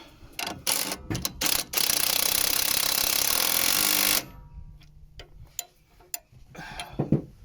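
An impact wrench with a 17mm socket on a van's anti-roll bar drop link, giving a loud sustained rattling hammer burst of about two and a half seconds, framed by clanks and ratcheting clicks of tools nearby.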